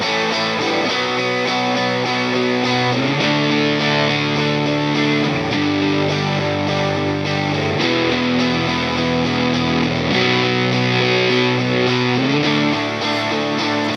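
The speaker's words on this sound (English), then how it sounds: "Compared to if there was no compression at all, it would sound like this. We would just hear more of the fuzz guitar," A full rock mix with the fuzz guitar pushed up and no bus compression, the distorted guitar sitting on top of steady rhythm guitars, loud and continuous without any voice.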